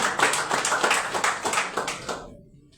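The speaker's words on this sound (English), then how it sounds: "Let's clap for our President." Audience clapping for the President at a gathering of UPND provincial youth chairpersons, with a steady patter of many hands that fades out near the end.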